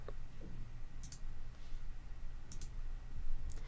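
A computer mouse clicking while editing in Google Web Designer, three crisp double clicks spaced evenly over a low steady background hum.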